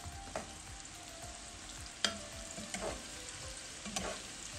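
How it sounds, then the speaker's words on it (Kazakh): Pieces of shi baursak dough fry in hot oil with a continuous crackling sizzle, broken by several sharp clinks and scrapes as they are stirred, close up with no talking. "Қызып тұрған майға осылай көбірек етіп саламыз."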